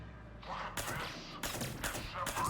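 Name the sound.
suppressed pistol shots in Mass Effect video game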